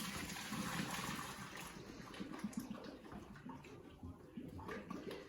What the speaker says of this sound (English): So I'm gonna go ahead and I'm gonna drain that water off.